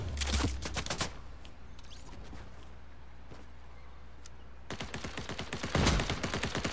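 Rapid bursts of automatic gunfire in the video game Fortnite crackle loudly at the start and again toward the end, separated by a quieter stretch with a few scattered single shots.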